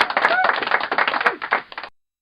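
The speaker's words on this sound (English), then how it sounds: "Yeah, I'm gonna play this clapping sound." A recorded clapping sound effect plays back during a live stream: a dense, fast patter of many hands clapping at once, thin and somewhat muffled, which cuts off abruptly after about two seconds.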